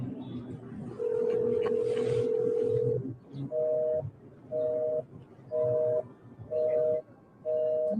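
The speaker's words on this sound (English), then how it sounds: "What does it mean when you call someone, it ring and then it go busy?" A phone call rings once as a long steady tone, then switches to a busy signal: five short repeated beeps in an even on-off rhythm, clear and close, with faint background noise underneath.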